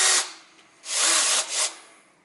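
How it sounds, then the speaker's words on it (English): An electric drill with a small bit runs in short bursts while cleaning piston holes in a car engine: a brief whir, a pause, then a longer close whir with a second quick burst. "I take this my electric drill, and now when this is small, so small drill bite"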